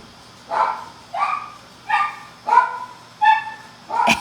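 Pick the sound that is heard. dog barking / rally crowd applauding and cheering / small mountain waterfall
dog barking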